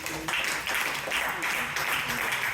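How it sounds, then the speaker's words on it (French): Audience applauding the directors at a corporate presentation, a steady mass of clapping throughout with murmured voices mixed underneath. "applaudissez fort pour les directeurs"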